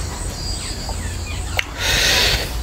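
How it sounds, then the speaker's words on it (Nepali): Birds chirp outdoors on a sunny morning, a few short, fairly close calls over a steady background hum. "चराहरूको छ्याउ छ्याउ छ्याउ छ्याउ छ्याउ छ्याउ छ्याउ छ्याउ छ्याउ।"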